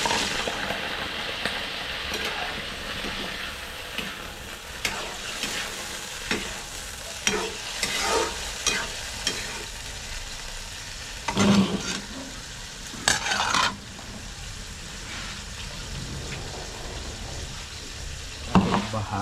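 Chicken gizzards fry in a pan with a steady soft sizzle, broken by repeated scraping and stirring clatters of a utensil against the pan, close and moderately quiet.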